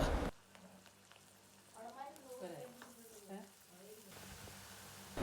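Soft sizzling of crushed green chili and ginger paste frying in a pan runs throughout while a voice speaks over it in the middle.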